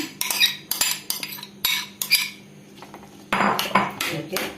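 A spoon stirs Kerala-style tender mango pickle (kadumanga) in a metal pot, making a close, uneven series of scraping strokes and clinks separated by short pauses.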